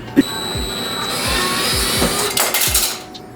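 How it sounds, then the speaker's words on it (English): A new cordless battery-powered electric screwdriver whirs steadily for a couple of seconds in a kitchen during a tile backsplash install, close and fairly loud, preceded by a brief click. "I didn't tell y'all that I got a new screwdriver, battery,"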